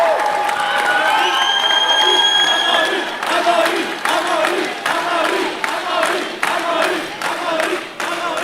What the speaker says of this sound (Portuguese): Vaia, deputado Fred Rodrigues, vaia de gente burra, para mim é elogio. Continue vaiando